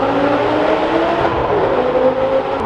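Exhaust of an Audi R8 V10 Spyder GT supercar on the move, a steady loud droning engine note with a constant low rumble, heard alone without talk.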